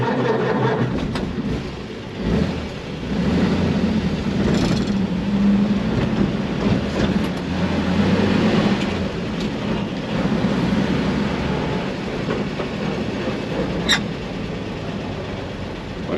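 A 1947 Ford pickup engine runs steadily after starting, a loud, close, continuous low rumble that holds for the whole stretch with no talking.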